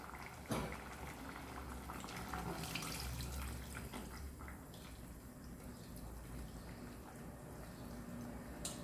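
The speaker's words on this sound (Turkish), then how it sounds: "Şimdi vişnesini süzüyorum" Liquid from sour cherries, cooked for a watermelon-rind dessert, is strained in a steady, faint bubbling and trickling wash that continues throughout.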